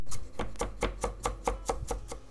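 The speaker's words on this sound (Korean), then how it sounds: "대파는 이렇게 얇게 써신 다음에 다져 주세요." Knife finely chopping the white part of a green onion on a cutting board, about ten crisp, evenly spaced close taps in a steady rhythm with no talking.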